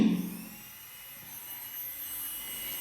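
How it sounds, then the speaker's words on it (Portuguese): Electric nail drill with a tungsten carbide bit sanding a gel nail extension: a steady, high-pitched whine running close and fairly loud after a brief low bump at the start, alone without talk. "agora eu vou pro lixamento mecânico. Eu vou usar a broca de tungstênio também."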